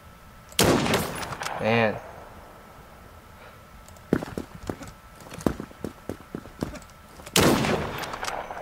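Gunshots in the browser shooter Krunker.io: a few sharp loud cracks spaced apart, followed by a cluster of quicker lighter shots, with someone briefly talking between them.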